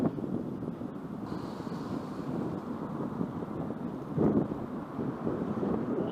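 Steady, heavy wind buffeting the microphone while cycling with a tailwind at night in Fukuoka, Japan, a continuous low rumble with a brief gust swelling partway through.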